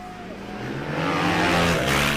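A racing quad's engine roars steadily down the straight at a Mettet Superquad race, rising in pitch as it speeds past, with faint commentary underneath.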